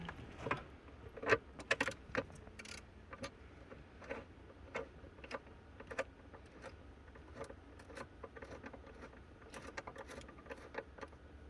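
A 700 RMK snowmobile motor bolted in with hand tools, faint scattered metallic clicks, taps and jangles at an irregular pace over a low background hum, close, with no talking.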